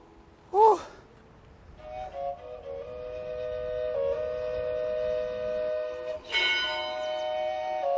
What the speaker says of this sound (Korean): 때맞춰 울리는 첨탑의 종소리